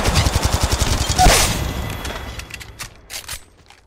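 Automatic gunfire in a multiplayer match of the video game Apex Legends, a rapid steady burst of shots followed by scattered further shots and a loud impact, fading toward the end.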